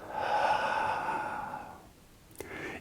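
A slow, audible exhale during a tai chi breathing exercise, a long soft breath that fades out, followed by a brief sharp intake and the start of another breath, close and clear with no talking.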